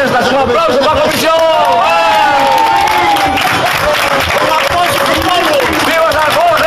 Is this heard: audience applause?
yes